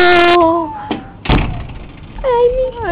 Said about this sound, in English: They're waiting for me to unlock the door.